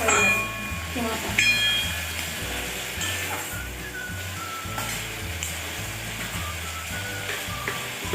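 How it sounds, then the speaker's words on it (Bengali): Chicken mince sizzling and frying in a pan with salt and turmeric, a steady crackle with occasional stirring, under a low rhythmic background hum and faint talk. "নুন হলুদ দিয়ে আমি এটাকে একটু কষাচ্ছি।"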